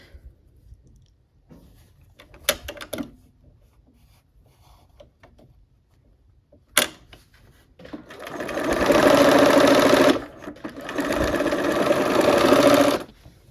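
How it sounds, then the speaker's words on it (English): Sewing machine stitching quilt fabric: a couple of faint clicks, then a loud close motor whir running in two sustained bursts with a short pause between, no talking. "We'll put that on the opposite corner and sew on that line."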